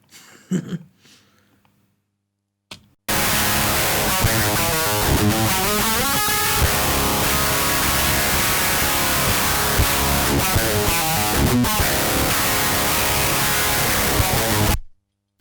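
A brief quiet murmur, then a harsh, fizzy, dry DI electric guitar with no cabinet plays loud chugging riffs for about twelve seconds, raw and unamplified-sounding.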